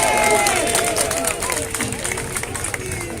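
A crowd at an outdoor rally on Place de la République applauds, cheering and calling in a dense, lively wash of clapping and voices that eases slightly after the first second.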